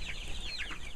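Young chicks and chickens peep and cluck faintly in a mobile chicken run, a brief soft flurry of high calls over steady background hum.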